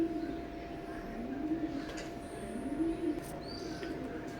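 A pair of Oman bloodline Saki pigeons coo in low, rolling phrases, repeating steadily over a faint constant hum, with no talking.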